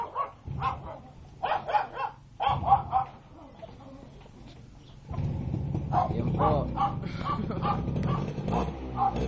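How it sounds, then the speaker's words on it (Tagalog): A dog barks in repeated short bursts, fairly close, with a person talking briefly in between and over background noise. "Hinahabol po siya ng aso mga kaibigan."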